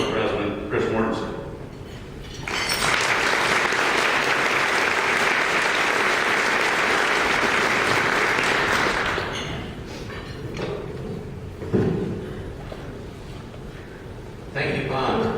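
Audience applause at a Variety charity lunch: sustained clapping from a large crowd swells in and holds for several seconds, then fades, with voices and a thump around it.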